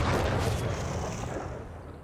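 A dense, rumbling roar of gunfire and explosions in a military video game battle fills the moment, loud and continuous, gradually easing off with no clear talk over it.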